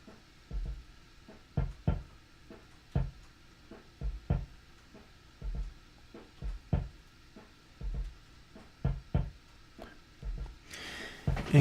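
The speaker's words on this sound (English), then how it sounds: "get more of a subtle sense of the amplitude of a drum being hit really hard" Drum hits run through a ConsoleX console-emulation plugin with the top dB setting raised: punchy, hard-struck thumps in an irregular groove across the clip, clean and close with no talking, ending in a brighter crash-like burst.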